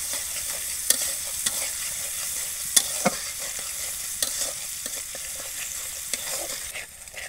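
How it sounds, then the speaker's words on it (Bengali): Chili, garlic and ginger frying in a pan give a steady close sizzle, broken by sharp scraping clicks of stirring, with no talking. "মরিচ রসুন আর আদা ভালোভাবে ভাজে নি।"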